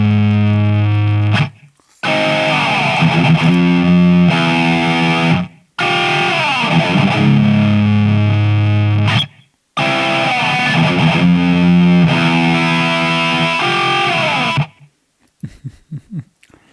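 Loud, heavily distorted electric guitar track from a Bandcamp album, played in several sustained chordal passages broken by short silent gaps, alone with no voice, trailing off into sparse quiet notes at the end.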